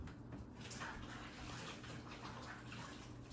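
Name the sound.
washing hands under running tap water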